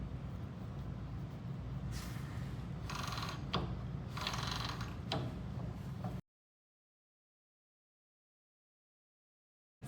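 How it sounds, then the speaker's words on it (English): A rigid heddle loom's crank ratchet clicks in short bursts as warp is wound onto the back beam. The close, dry mechanical ticking runs for about six seconds and then stops. "our goal here is to keep the warp under tension with one hand while we're twisting the crank with the other hand"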